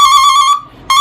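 A loud electronic warning tone from an added car brake and reverse siren sounds steadily, cuts out briefly, then resumes, a shrill steady beep like a vehicle alarm.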